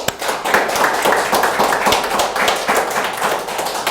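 A church congregation at a Sunday worship service claps hands together, a dense and loud run of overlapping claps that carries on steadily without pause.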